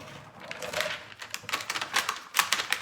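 Vinyl cutting machine cutting a porch sign, a quiet run of rapid clicking and ticking bursts with brief pauses between, close by and alone.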